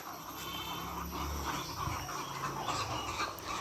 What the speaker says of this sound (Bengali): এগুলো হচ্ছে কি মোরগ আমি জানি না টাইগার প্রজাতির হবে অনেক বড় বড় মোরগ